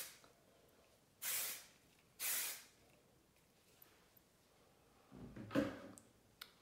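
Two short, sharp hiss bursts of hairspray are misted onto hair, followed by quieter rustling and handling noise in a close, quiet room.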